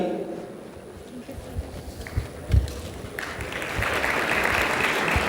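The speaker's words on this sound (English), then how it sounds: "Big round of applause." A crowd breaks into applause that swells and keeps going, following a stretch of muffled voices and shuffling in a room during a seminar on MBA entrance exams.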